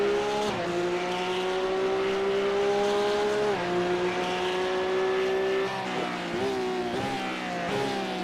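Race car engines howl continuously in an iRacing league race at Zandvoort, rising revs and sharp gear shifts, a loud onboard engine note with repeated upshifts and downshifts.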